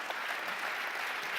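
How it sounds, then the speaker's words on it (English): A dense, steady wash of audience applause fills a plenary summit hall, many hands clapping together at an even level for the whole brief moment. "a big round of applause for Marjorie"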